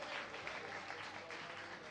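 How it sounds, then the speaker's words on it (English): A crowd at a body piloting championship event applauds a competitor, a dense, even patter of clapping at moderate distance, fairly quiet and without speech. "Give him a round of applause."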